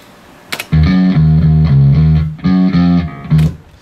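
A bass guitar through a Plexi amp model plays a punchy riff of low repeated notes with a crunchy tone, in two loud phrases separated by a short gap.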